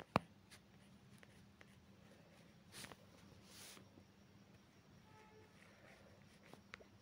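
A pen scratches faintly across a class 7 worksheet in short, quiet strokes, with a sharp tap at the start and long near-silent gaps.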